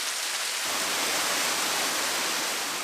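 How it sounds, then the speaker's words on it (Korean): A waterfall pours between rock walls in the Kuril Islands, a loud, steady, dense rush of water that fills the whole short stretch without letting up and with no voices. "산 정상이 아니라 암벽 사이에서 쏟아지는 폭포입니다."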